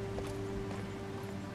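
Horse hooves clip-clopping at a steady pace in a period-drama setting, moderately close with a faint background hum.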